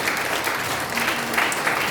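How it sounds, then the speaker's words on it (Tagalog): A church congregation claps loudly and steadily for a couple of seconds, a dense continuous wash of hand clapping filling the room. "magsabi ng malakas na amen at pumalakpak ng malakas sa amin."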